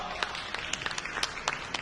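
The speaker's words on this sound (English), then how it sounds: "Please give another round of applause for our panel." Brief burst of scattered audience clapping at a WORLDEF business panel event in the UAE, moderately distant and fairly light, lasting under two seconds.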